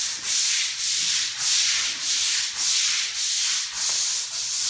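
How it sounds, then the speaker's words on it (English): Stiff bristle brush scrubbing a concrete garage floor wet with acid etching solution, a steady rasping swish in even back-and-forth strokes about every half second, close and fairly loud with no talk. "Make it all the way down and then we'll come back and scrub that way."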